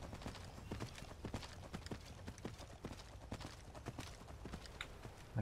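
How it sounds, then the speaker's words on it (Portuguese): A conjured horse trots in the Skyrim Special Edition video game, giving a steady, brisk clip-clop of hooves on hard ground that stays fairly quiet and close throughout. "Aqui eu não podia entrar com o cavalo, agora eu conjuro ele"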